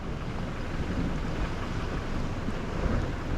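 Steady broadband hiss of rain on the River Mersey shore during cod fishing, with low rumbling wind noise, loud and constant, no voices.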